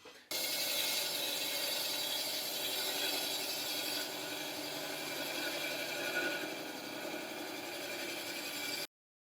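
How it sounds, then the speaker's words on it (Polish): Roughing gouge, 3/4 inch, turning a rough wood blank into a cylinder on a lathe: a steady, dense scraping and ratcheting chatter of the tool cutting spinning wood, loud and continuous for about nine seconds with no voices. "na pierwszy ogień idzie zdzierak, czyli pierwsze dłuto, które powoduje, że możemy sobie wstępnie z grubnia wytoczyć na przykład taki oto walec"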